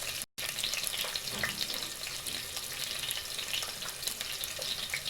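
Onions fry in hot oil for mashed sweet potatoes, a soft, continuous sizzle and crackle heard close up and fairly quiet, with no talking.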